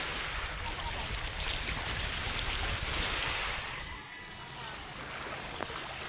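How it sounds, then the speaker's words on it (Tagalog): Sea waves at Pungtod beach wash in a steady roar that eases after a few seconds into a softer lapping, with faint breeze and no clear talk. "Muni dagat diri sa Kasiris."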